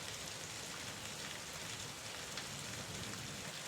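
Steady rain falls continuously, a dense even hiss of drops pattering on a surface, fairly soft and unbroken throughout with no thunder or voices.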